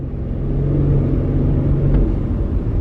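An Infiniti QX70 SUV under light throttle while coasting, in a car with a suspected thud fault: a steady loud engine and road rumble from inside the cabin, with no distinct thud standing out and no talk.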